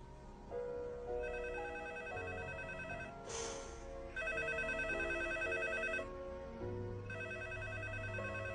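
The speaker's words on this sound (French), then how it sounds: "Tu ne réponds pas au téléphone?" A telephone rings in bursts, a bright electronic ringtone repeating several times at moderate volume indoors, with a short rustle between rings and no talking.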